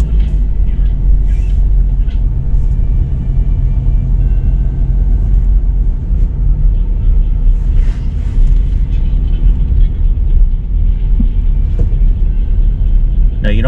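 Interior of a car on the move during a driving lesson, a loud steady engine and road rumble filling the whole stretch without a break, with faint occasional higher noises on top.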